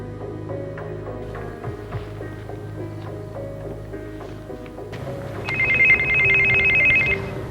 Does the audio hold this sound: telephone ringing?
yes